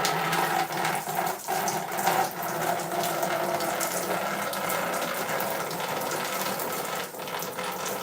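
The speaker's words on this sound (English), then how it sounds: "I want to wash my hands after I just got my foot out of the my pedicure tub." Tap water pours steadily into a basin for hand washing after a pedicure soak, a loud continuous rushing hiss with slight fluctuations throughout.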